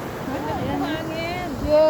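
Strong sea waves wash onto the shore with a windy, rushing hiss, building at the end, while people talk and call out over it.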